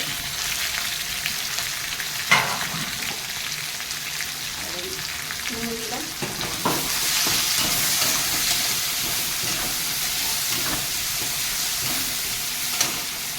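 Potatoes and onions fry in oil in a pan, a steady close sizzle with occasional stirring clatter and scrapes, growing slightly louder partway through.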